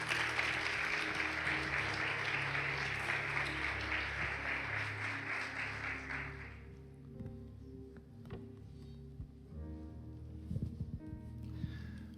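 A church congregation applauds steadily for several seconds, then the clapping fades out, leaving soft background music and a few faint sounds.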